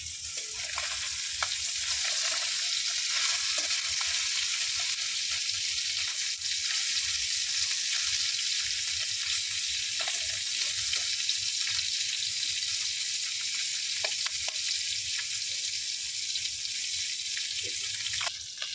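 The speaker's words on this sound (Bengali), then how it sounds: "এই যে আমার মাছগুলা ভাজা হয়ে গেছে, হালকা ভাজা" Steady, dense sizzling of fish frying in hot oil, with occasional soft clicks and pops throughout, no voices.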